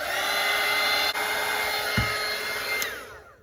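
Hair dryer drying a watercolour painting of a cartoon reindeer, a steady close airy whoosh that runs throughout with no talk, briefly dipping and then fading at the end.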